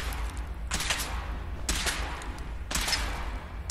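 Gunfire bursts out three times at steady intervals during a Fallout 4 power armor test, each volley sharp and close over a constant low mechanical hum.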